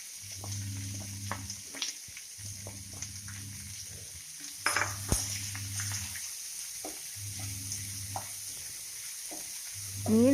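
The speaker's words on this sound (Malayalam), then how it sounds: "ഉള്ളി അതിലേക്കിട്ട് വഴറ്റിയെടുക്കണം" Onion sautés in oil in a pan for fish chukka with a steady, close sizzle. Regular scraping stir strokes come in a repeating rhythm, and a louder clatter sounds near the middle.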